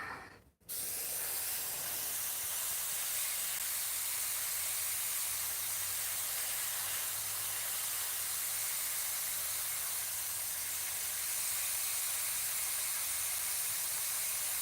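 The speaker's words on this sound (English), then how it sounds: "I need to spray that white a little bit." An airbrush sprays white paint onto vintage lettering cutouts, a steady close airy hiss running nearly unbroken after a brief gap at the start.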